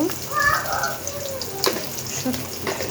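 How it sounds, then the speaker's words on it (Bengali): Onions sizzle in hot oil in a pan before dried fish is added, a steady close frying hiss with some stirring, while a voice is faintly heard over it. "পেঁয়াজটা লাল লাল করে ভেজে নিব"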